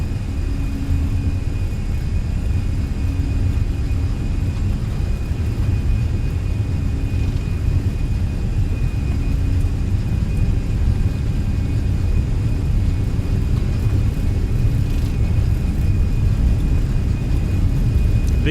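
Fenix A320 jet engines spool at takeoff thrust in a flight simulator, a steady, loud, broadband roar with deep rumble and a constant high whine, unbroken throughout.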